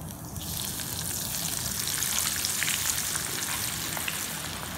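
About one whole garlic, cut into very thin slices, frying in hot oil for a spicy snack mixture makes a soft, continuous bubbling sizzle with no voices.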